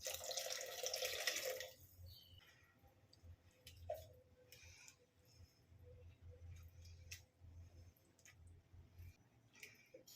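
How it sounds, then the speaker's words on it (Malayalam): Water rinsed from a mixer jar splashes and pours loudly into a pot for a couple of seconds, then quieter kitchen clinks and drips follow against a low background hum. "മിക്സിയുടെ ജാറിൽ കുറച്ച് വെള്ളം ഒഴിച്ച് കഴുകി ഒഴിക്കാം."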